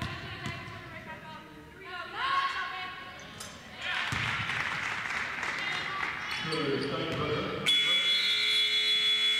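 A basketball game buzzer sounds near the end of a women's college game in a gym, a loud sustained electronic tone arriving late after squeaks, bounces and crowd noise, with a commentator talking throughout.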